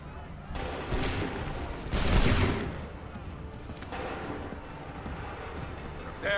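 Musket volley gunfire in Assassin's Creed 3 rises in rolling bursts, with a heavy volley near the middle amid battle din and hoof-like clatter, while voices speak.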